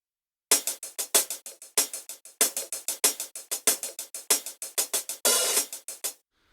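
A crisp hi-hat loop ticks in a steady, swung rhythm with a gritty, slightly dusty texture, broken by a short open-hat wash near the end.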